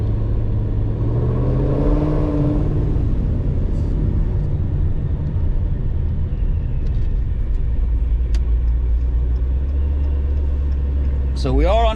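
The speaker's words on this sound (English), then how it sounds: "Taking her out, letting the Procharger run a little bit." Cammed 5.7 R/T car with a Procharger supercharger, running on a base startup tune, a deep steady engine rumble with a rising and falling tonal sweep early on, while a voice speaks over it.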